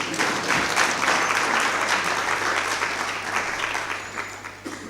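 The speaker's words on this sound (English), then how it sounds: "they can clap because this is important" An audience at a youth entrepreneurship and financial inclusion symposium applauds steadily, a dense wash of clapping that holds for several seconds before gradually thinning toward the end.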